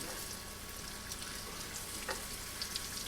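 Floured zucchini slices sizzle steadily in a hot sauté pan with oil and butter, a dense, even crackle close by with a few brighter pops and no voices.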